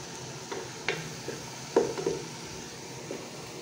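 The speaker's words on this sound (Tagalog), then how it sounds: "Gisa-gisa lang natin yan hanggang yung brown siya" Ground meat sautéing in a pan: a low steady sizzle under intermittent scrapes and knocks of a spoon stirring against the pan, close and fairly quiet, with no voices.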